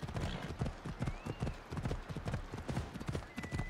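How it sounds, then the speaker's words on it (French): A horse's hooves clip-clop at a steady trot in Assassin's Creed Odyssey, rhythmic close hoofbeats running throughout with a faint bird-like whistle now and then and no clear talk. "J'ai l'impression que mon cheval a été un peu loin."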